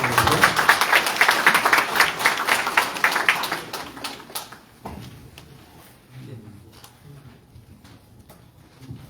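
Dense audience applause at a public forum on an industrial waste landfill claps loudly for several seconds, then fades into scattered claps and quiet room noise.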